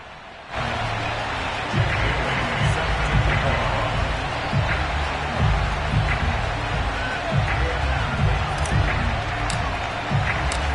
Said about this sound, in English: This crowd is ready as their guys get set to match up with their opponents.